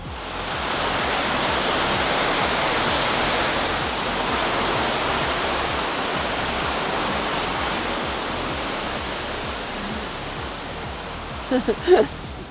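A broad, steady rush of falling water from a waterfall near a walking track, loud and continuous throughout, with a few brief knocks and faint voices near the end.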